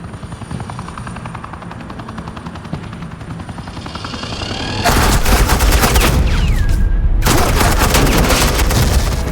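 Suppressing gunfire in the video game Batman The Enemy Within, a loud dense burst of rapid shots that cuts in abruptly over a whirring rotor-like drone, breaks off briefly, then resumes just as heavily.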